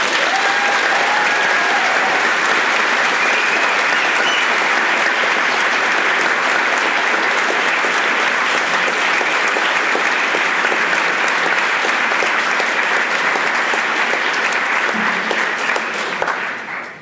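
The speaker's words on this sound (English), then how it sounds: "If you'll all join me in giving them a round of applause." A large evening audience at a panel on 125 years of women's suffrage gives a long, sustained round of applause, a thick wash of clapping that stays loud and even before tapering at the end.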